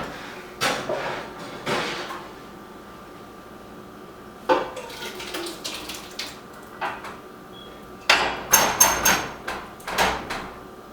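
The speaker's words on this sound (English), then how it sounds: "I need to pull those guys back out of the oven." A home kitchen oven is opened and baking trays of tomatoes are pulled back out, giving sharp metallic clanks, thuds and scraping clatter in scattered bursts, louder toward the end, with no speech.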